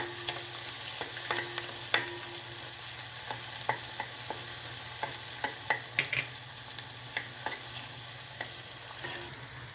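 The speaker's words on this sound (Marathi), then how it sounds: "कांदे घालूया चांगले कांदे होऊ द्यायचे लालसर" Onions sizzle steadily in a hot pan for pav bhaji while a spoon stirs them, with sharp scraping clicks scattered over a constant frying hiss.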